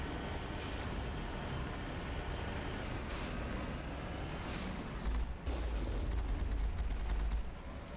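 Gunfire in the video game Mass Effect: dense, continuous rumbling bursts of shots mixed with low booms, loud and sustained throughout with no talking.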